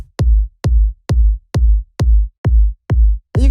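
A layered techno rumble kick, a full low-end layer combined with a high-passed punch layer. Eight loud, tight kicks pulse at a steady tempo, each with a brief booming tail, ending on a short noisy burst, with no talking.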